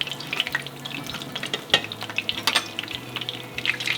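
Chicken for yurinchi shallow-fries in a frying pan of oil, a dense crackling sizzle with frequent bright pops and spits, close and fairly loud, with no voices.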